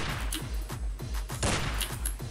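Rapid machine gun fire in the video game Madness Deathwish 2, a steady rhythm of sharp repeated shots with regular bursts, moderately loud and continuous with no talking.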